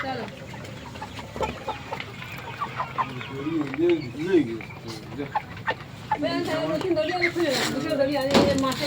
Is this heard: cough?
no